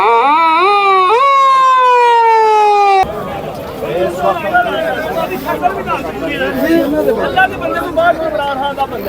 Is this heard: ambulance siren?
yes